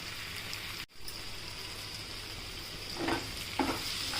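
Diced potatoes with a sprinkle of chat masala steam in a pan for potato chatpata katli, giving a low steady sizzle with a brief dropout and a couple of soft stirring scrapes near the end.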